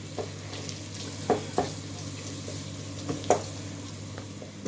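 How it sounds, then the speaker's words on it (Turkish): Vermicelli for pilaf toasting in a small amount of liquid oil, heard as a faint, low sizzle under a steady kitchen hum, broken by a few sharp stirring clicks and scrapes. "pilavın şehriyelerini kavuruyorum"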